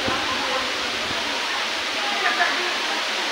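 Hulugan Falls pours down in a constant broad rush of falling water, steady and fairly close, with faint voices nearby barely rising above the noise.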